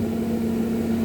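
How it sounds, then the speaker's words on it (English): Kitchen exhaust fan running over a stove, a steady close motor hum with a constant tonal drone and no talking. "I'm going to put this exhaust on."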